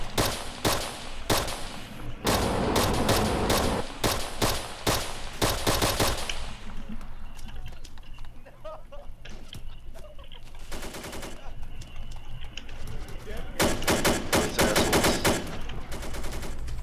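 Rapid bursts of automatic gunfire from a World War II D-Day co-op mission in the video game Arma 2, loud and dense for several seconds, dropping to distant scattered shots, then returning in sharp repeated volleys.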